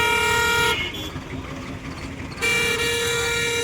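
Vehicle horns blare in busy town traffic in Radhanpur, two long, loud, steady honks separated by a short gap filled with street noise and a faint voice.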